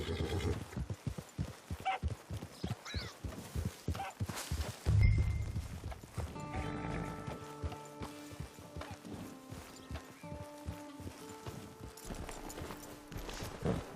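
A horse in the Red Dead Online video game clip-clops along on its hooves in a steady rhythm, then gives a loud whinny, and a game music bed with sustained tones swells up beneath.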